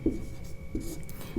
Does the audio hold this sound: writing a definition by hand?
yes